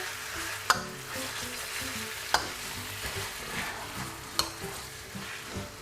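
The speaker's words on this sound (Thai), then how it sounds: "ผมก็จะใส่ตัว หมูนะครับ ที่เราหมักกับกะทิไว้เลยนะครับ แล้วก็ผัดให้เข้ากันนะครับ" Pork marinated in coconut milk stir-fries with panang curry paste in a pan, a soft steady sizzle under several sharp scraping stirs spaced a second or two apart, heard alone without talk.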